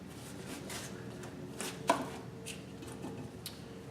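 Knife slicing the rind off a watermelon on a cutting board, a few soft scraping cuts with one sharper knock near the middle, quiet and close with no voices.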